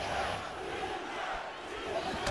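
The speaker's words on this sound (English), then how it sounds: "You hear the crowd?" Video game crowd in a UFC fight game, a steady, dense roar of many voices with a battle-cry quality, filling the whole stretch at an even level.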